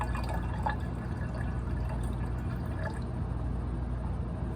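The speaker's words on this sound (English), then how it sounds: "Just another 50 mils of potassium hydroxide." Potassium hydroxide solution is poured into a stirred beaker, giving a continuous, faint trickle and drip of liquid over a steady low background rumble, with no break.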